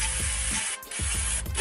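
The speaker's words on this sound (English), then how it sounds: "we could just use our brake cleaner," Brake cleaner sprays in a loud, continuous close hiss onto a BMW E46 rear brake assembly, broken by a brief pause before the spraying resumes.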